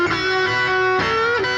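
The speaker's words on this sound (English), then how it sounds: "Then take that isolated guitar track, slow it down with something like RX," Slowed-down isolated electric guitar track processed with RX, sounding as stretched, sustained notes with smooth pitch glides that hold steadily and shift at a couple of points, with no voices present.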